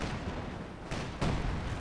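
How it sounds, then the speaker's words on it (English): In Company of Heroes 2, a coordinated artillery barrage called in by a Panzer IV ability pounds Lienne Forest during a 4v4 match: a dense, rumbling roar with a couple of heavier booming impacts, and no talk. "We have a artillery strike thanks to the Panzer IV's Ardient ability"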